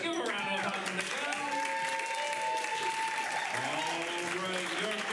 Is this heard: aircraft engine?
no